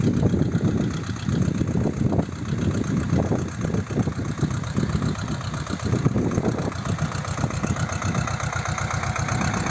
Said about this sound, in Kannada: ಬ್ರ್ಯಾಂಡ್ ಟ್ಯಾಕ್ಟ್ರಿ ಇದೆ ರೀ ಸ್ವರಾಜ್ ನೋಡ್ರಿ ಹೆಂಗೆ ಬರ್ತದೆ ಗಾಡಿ